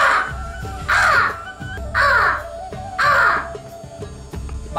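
A man imitates a crow's cawing with his voice, giving three loud, drawn-out caws about a second apart, each one harsh and nasal.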